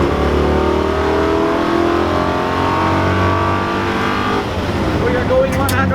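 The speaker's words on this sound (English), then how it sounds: "if I shift down in this moment to 3rd gear" A car's engine surges and revs hard after a drop from sixth to third gear, a loud continuous rising drone with climbing tones, close and sustained.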